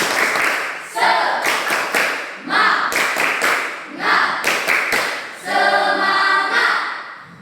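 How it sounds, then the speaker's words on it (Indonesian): Schoolchildren in a maths lesson give a classmate a spirit clap, a patterned routine of sharp, close clapping in repeated rhythmic groups mixed with chanted shouts in unison. "Tepuk semangat untuk Rifaldi."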